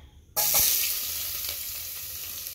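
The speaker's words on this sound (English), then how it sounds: "I add the onions, garlic and carrot at the same time" Onion, garlic and carrot hitting hot cooking oil in a pan for pasta sauce, a sudden loud sizzle bursting in after a quiet start, then a steady crackling hiss close up.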